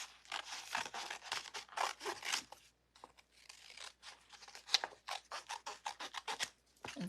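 Scissors snip and rasp through an Infusible Ink transfer sheet being cut out for earrings, a quiet close-up series of irregular cutting and rubbing strokes with brief pauses.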